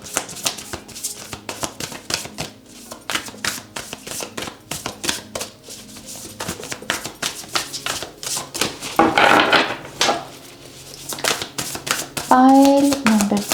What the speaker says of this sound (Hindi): हम यहाँ पर आपके लिए जो है कार्ड्स को अब शफल करते हैं